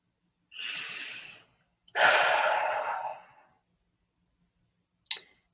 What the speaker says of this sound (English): Becoming aware of your breathing.